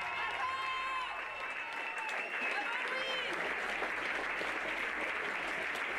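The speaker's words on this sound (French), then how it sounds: "je vous demande d'applaudir Louise Petitjean" Audience applause at a pony eventing prize ceremony, dense steady clapping from a crowd, with music and faint voices running underneath.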